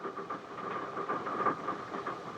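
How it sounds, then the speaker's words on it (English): A train rolls along with a steady rumbling drone and faint rhythmic clatter, heard from inside a train car in the fight scene of From Russia with Love, continuous and fairly quiet with no voices. "there's this fight inside a train car that Connery has with Robert Shaw"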